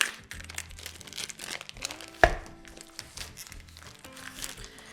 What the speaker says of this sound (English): So let me get this out of the package